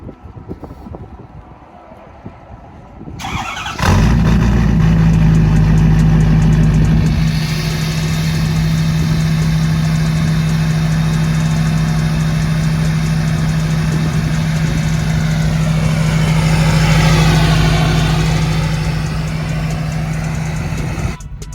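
A big 6.7 Powerstroke diesel truck engine cranks, catches and settles into a loud, steady low idle, with a rising whine swelling partway through.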